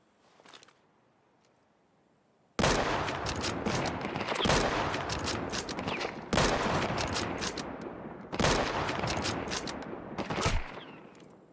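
Bursts of AK rifle fire in the survival shooter Deadside, loud and close, three long rattling volleys separated by brief pauses after a quiet start.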